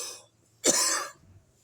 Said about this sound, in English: And now I'm coughing through my video.